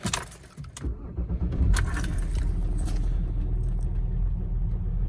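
Keys jingle briefly, then a BMW E46 engine cranks and catches, settling into a steady idle rumble close by.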